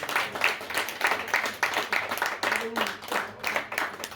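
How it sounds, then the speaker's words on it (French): An audience at a literary afternoon gathering claps for the authors, a dense, uneven patter of hands carrying on for several seconds at moderate loudness. "je vous demande de les applaudir encore une fois"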